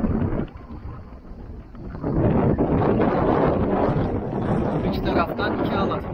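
Strong, gusty wind batters a MacGregor 26 sailboat at anchor in Girneyit Bay near Bozburun. A loud, close roar of wind buffets the microphone, swelling partway through, with a voice faintly underneath.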